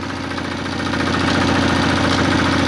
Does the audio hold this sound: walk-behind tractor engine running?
yes